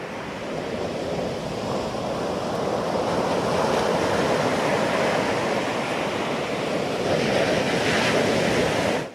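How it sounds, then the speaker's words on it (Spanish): Sea waves wash in as a steady, loud roar of surf that swells gently over about nine seconds, with no voices. "Es el mar."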